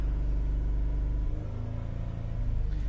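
Car engine with a cranks-but-won't-start fault, unable to idle, held at raised RPM during a power balance test: a steady, close, loud low rumble with a faint pulsing unevenness that rises slightly toward the end.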